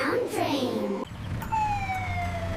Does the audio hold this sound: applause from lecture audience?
no